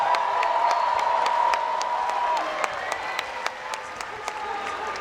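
A large crowd at a boxing event at Marina Bay Sands, Singapore, applauds and cheers loudly, with a whistle and scattered whoops rising over steady clapping that gradually thins out.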